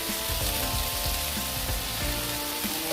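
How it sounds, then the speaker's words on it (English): Chopped mushrooms sauté in a pan for a broccoli mushroom soup, giving a steady, close, continuous sizzle with small crackles and pops throughout and no talking. "Now after 2 minutes of sauteing, what I'm doing is I'm going to add the"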